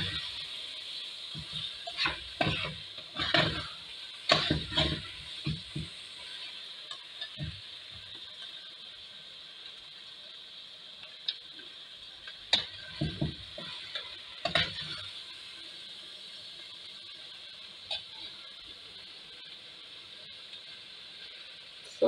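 Ayamase stew frying in a pan, a faint steady sizzle under clusters of spoon scraping and stirring clatter near the start and middle, then a quieter stretch of simmering.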